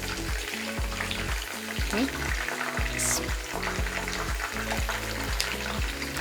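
Chicken kababs and french fries deep-frying in hot oil, a steady dense sizzle and crackle running throughout with occasional clinks, close and fairly loud.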